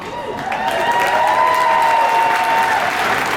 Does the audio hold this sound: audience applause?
yes